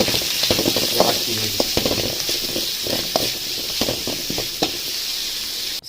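Onions, split green chillies, garlic and curry leaves sauté in hot oil for a Kerala-style crab roast, sizzling steadily up close while a spoon scrapes and taps the pan rhythmically and a person talks over it.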